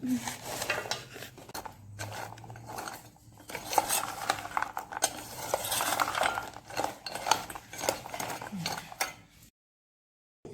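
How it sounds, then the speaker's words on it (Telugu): Fried gavvalu sweet shells being stirred into jaggery syrup in a pot, with steady clinks and scrapes of a spoon against metal and soft rustling of the shells, moderately close, with no talk. "ఇలా తయారు చేసుకున్న గవ్వల్ని బెల్లం పాకంలో వేసి కలుపుకోవాలి"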